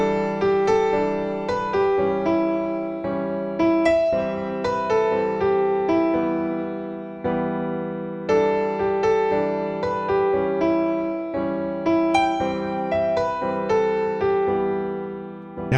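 Solo piano playing chorus chords, a steady rhythmic pattern of repeated struck chords with melodic movement, played clearly and close with no talking.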